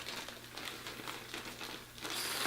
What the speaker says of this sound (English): I'm going to take the unit out of the little plastic baggie that it comes in